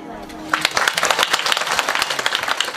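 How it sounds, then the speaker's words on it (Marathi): An audience applauds at a public talk, a dense burst of many hands clapping that swells after a brief pause and carries on loudly, with a voice heard faintly at the start. "मोकळ्या टाळ्या वाजवा एकदा."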